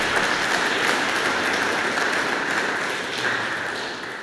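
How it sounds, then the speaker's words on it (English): An audience in a parish church applauds a retiring treasurer, broad steady clapping that fills the room and fades slightly toward the end. "Give a round of applause for"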